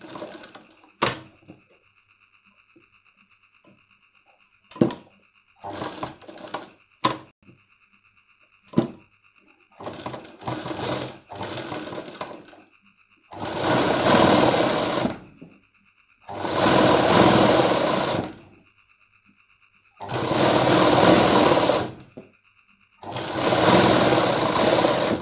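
A tailor's sewing machine stitches piping cloth onto a blouse in short, sharp bursts of rattling stitching at first. Then come four longer, loud runs separated by pauses, with no talk.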